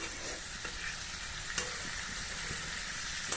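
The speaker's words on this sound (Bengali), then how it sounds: "মাছটাও ভাজতে বসিয়ে দিয়েছি মাছটা একদম আস্তে আস্তে ভাজছি জোর কমিয়ে দিয়েছি" Fish fries slowly over low heat in a pan, a soft, even sizzle close by with a few light clicks of utensil contact, no voices.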